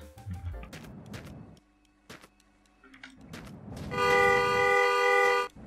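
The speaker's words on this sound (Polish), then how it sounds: "No i co trąbisz" A car horn blares in The Long Drive, a modded driving game: one long, loud, steady honk of about a second and a half, following quieter thumps and clatter.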